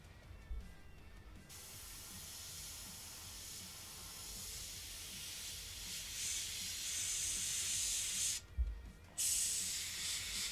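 An airbrush spraying paint onto a 1/35 scale LAV-25 model, a steady quiet airy hiss running throughout with two brief breaks where the spray stops and restarts.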